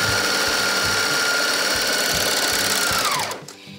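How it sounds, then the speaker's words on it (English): A serger sewing machine stitching and trimming fabric for a fitted reusable face mask, a fast steady mechanical whir with regular rhythmic knocking, running close and loud before winding down at the end. "The beauty of the serger is it cuts off what I don't like."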